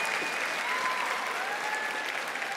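An audience at the Sydney Opera House claps for a literary and TV panel event, dense sustained applause from a large crowd filling the hall, steady throughout with no speech over it.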